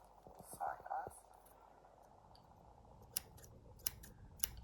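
Cross stitch scissors give three crisp, isolated snips about a second apart, close and clear, after some soft handling noise and quiet whispery voice.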